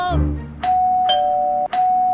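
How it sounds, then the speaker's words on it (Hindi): A doorbell chimes three times in quick succession, each bright electronic ding ringing clearly and sustaining briefly before the next press, close and loud after a short burst of low-pitched voice-like sound at the start. "तभी दरवाजे की घंटी बजी।"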